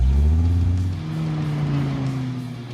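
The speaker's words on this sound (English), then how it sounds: "now let's see how those settings work out for Eric on the track" A 2016 Dodge Viper ACR runs on a race track, its engine holding a loud, steady drone that eases slightly after the first second, heard close and alone without talk.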